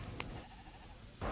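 Dolly, the cloned sheep at Roslin, gives a short bleat, with quieter bleating and farm ambience around it, and no voices.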